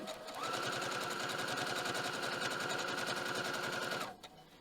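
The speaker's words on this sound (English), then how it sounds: "I'm just going to sew this all the way down and try to keep as perfect of a line as I can" A sewing machine runs steadily as it stitches a long seam through fabric reinforced with gridded fusible interfacing, giving a fast, even mechanical whir with rapid rhythmic needle ticks that stops abruptly near the end; no talking.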